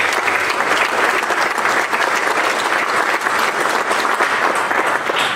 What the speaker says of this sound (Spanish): pido un fuerte y fraterno aplauso para los ciudadanos concejales del honorable ayuntamiento